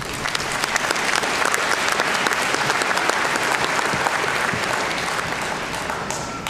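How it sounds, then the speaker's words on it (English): A large college commencement crowd welcomes the ceremony's MC with loud, sustained applause, thick overlapping clapping filling the hall evenly for over six seconds before easing slightly at the end. "Please join me in giving him a round of applause."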